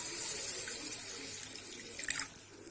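Water runs steadily from a tap into a pot with a soft hiss and splashing, ending in a brief louder gush before tapering off.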